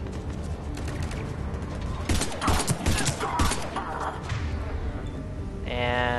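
Gunfire in the video game Mass Effect 3 during a mission in the Prothean Archives on Mars: a loud, dense run of shots and mechanical clatter that peaks midway, followed by a brief electronic tone at the end.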